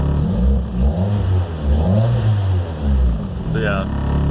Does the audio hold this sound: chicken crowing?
no